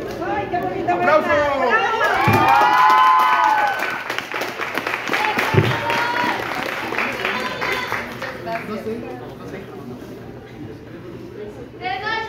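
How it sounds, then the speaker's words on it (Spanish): Clapping and chatter fill the room at a Spanish-language book launch, a crowd applauding loudly and continuously while voices talk and call out over it throughout. "¡Aplausos!"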